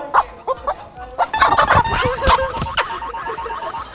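A farm chicken clucks and squawks in agitated bursts while being caught, close and loud, with rapid irregular calls and scuffling, and a person's voice faintly mixed in.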